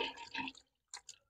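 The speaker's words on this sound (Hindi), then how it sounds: "अभी मटन को अच्छे से धो ले रहे हैं" Mutton pieces being rinsed in water, giving short splashy sloshes and drips, a longer burst of washing followed by two brief splashes after a pause.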